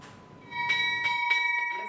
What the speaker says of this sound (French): La cloche a retenti sur le tintement conjoint des directeurs généraux de la BRVM